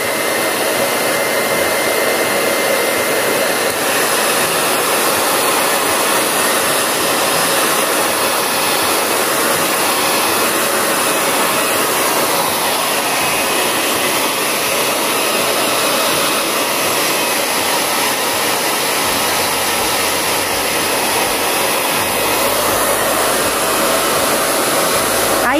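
A hair dryer blows loudly and continuously at close range, drying paint to bring out a crackle effect, its steady whooshing roar filling the whole stretch without a break.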